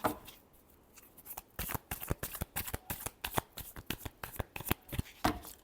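Tarot cards are shuffled by hand in a quick series of crisp riffling slaps and flicks, each burst sharp and close, repeating rhythmically for several seconds without talk.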